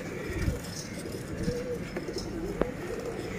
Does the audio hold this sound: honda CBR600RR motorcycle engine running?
no